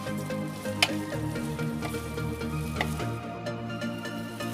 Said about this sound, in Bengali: গোবিন্দভোগ চালটা যেটা ভেজে রেখেছি ওটা আমি অ্যাড করে দেবো। এটা এবার ভালো করে আমি কষিয়ে নেব।